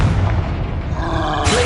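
A blasting spell, Confringo, goes off in the Hogwarts Legacy game as a heavy, rumbling boom, loud and sustained, with a brighter burst flaring near the end.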